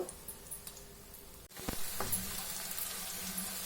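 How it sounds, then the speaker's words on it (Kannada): Two large onions frying in oil give a soft sizzle that dips briefly, then swells into a fuller, steady crackle as the pan is stirred. "ದೊಡ್ಡದು ಎರಡು ಈರುಳ್ಳಿ ಚೆನ್ನಾಗಿ ಫ್ರೈ ಮಾಡ್ಕೋಬೇಕು"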